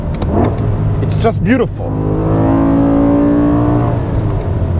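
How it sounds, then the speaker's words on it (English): BMW M5 with six-speed manual, engine revving hard at full throttle, climbing then sweeping down as it shifts, followed by a sustained rising drone; someone speaks briefly near the start. "All you want to do in this car, go full throttle, rev match, downshift, heel and toe."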